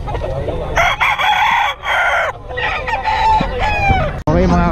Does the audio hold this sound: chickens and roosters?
yes